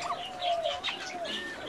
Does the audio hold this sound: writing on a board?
no